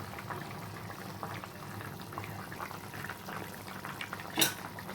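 Vegetables simmer in a pot for a sour mango curry with small fish, bubbling steadily and softly, with a single brief clink of utensil near the end and no talking.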